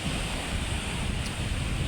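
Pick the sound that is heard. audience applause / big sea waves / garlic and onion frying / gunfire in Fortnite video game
big sea waves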